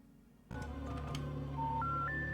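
A house phone is dialed after a sudden click, with a steady tone followed by a run of stepped, rising keypad beeps, close and clear.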